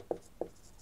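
Pen or marker writing on paper during a maths lesson on parabolas, two short, soft scratching strokes close by, separated by a brief pause, with no speech.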